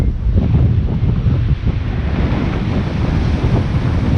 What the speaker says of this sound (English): That's how strong the wind is right now.